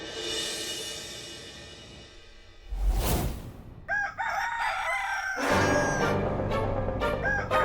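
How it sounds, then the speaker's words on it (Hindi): A rooster crows indoors on a festival morning, several drawn-out cock-a-doodle-doo calls standing out clearly over a soft background hiss, with a brief whoosh passing in between. "रामनवमी के दिन हमें बांग देकर उठा रहा है"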